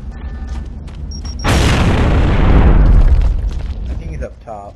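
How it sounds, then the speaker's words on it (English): A frag grenade blows up in Gears of War 3, a loud, deep boom that swells and rumbles for about three seconds before fading, with game noises and voices talking around it. "Throwing frag!"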